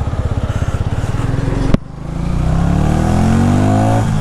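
Harley-Davidson X440 cruiser motorcycle being ridden, its engine throbbing in steady pulses, then a sharp break before the exhaust swells into a loud, rising rev that builds up through the gears.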